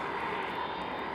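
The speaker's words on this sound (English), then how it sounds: "So you can hear the rumble from where we're standing here." Ilyushin Il-76 jet engines at East Midlands Airport, heard as a steady broad rumble and roar from a distance, even and continuous with no talk over it.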